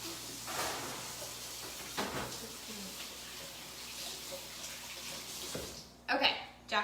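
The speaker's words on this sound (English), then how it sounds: "Let me rinse my hands off; they're all sticky." Tap water runs steadily into a kitchen sink as sticky hands are rinsed, a soft continuous wash with faint splashing and a cupboard-like knock near the end, quiet and close.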